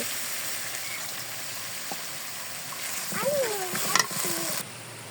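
Water poured into a pan of fried spice paste for a fish and green banana curry sizzles and bubbles, with a burst of spattering midway and short kitchen clatter.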